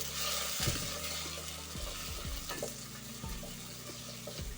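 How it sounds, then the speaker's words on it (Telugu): Onions and tomatoes sauté in a pan, a soft continuous sizzle broken by several scraping stirs, close and fairly quiet, with no talking. "ఇవి కూడా బాగా మగ్గనిద్దామండి ఉల్లిపాయలతో పాటు టమాటాలు కూడా బాగా మగ్గనిద్దాం"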